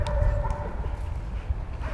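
A police service dog barks during a training demonstration in Eisleben, with a few short, fairly near barks over a low background rumble and faint voices.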